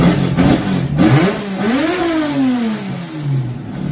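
Hemi 245 engine on a dyno, revving hard in several rising and falling sweeps, the note climbing steadily toward the end, loud and close with no talk over it.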